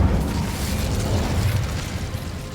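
Incendio fire spell burst in Hogwarts Legacy, a loud roaring boom of flame that fills the whole short moment and fades slightly toward the end.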